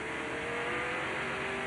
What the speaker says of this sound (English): And Kenny Wallace, the red dog truck, once again trying to get to the inside